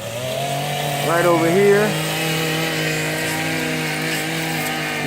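A chainsaw runs at a steady loud drone while cutting back overgrown tree branches away from a house during a tree trimming job in Jacksonville, Florida, with a brief rising rev and someone talking over it.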